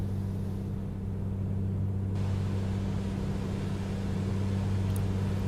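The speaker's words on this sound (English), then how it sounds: "We can hear our engine going" A Piper Comanche's aircraft engine drones steadily, with a constant low hum and broadband roar as heard from inside the cabin, unbroken and without speech.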